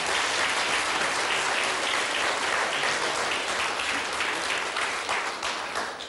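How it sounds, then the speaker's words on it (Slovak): Applause for a winner, a dense crowd of hands clapping steadily and loudly, sustained for several seconds and tapering slightly at the end, with no voices standing out. "potlesk pre víťaza"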